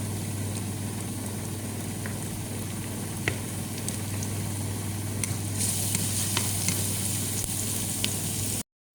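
Onions and tomatoes sauté in a pan, giving a steady, fairly quiet sizzle with occasional faint clinks of stirring, heard alone without talk.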